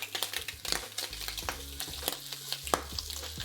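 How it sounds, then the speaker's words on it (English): Bacon frying in a worn frying pan, a steady crackling sizzle with dense spitting pops throughout, close and fairly loud, with low hum and occasional clatter underneath. "Need this bacon to crisp up."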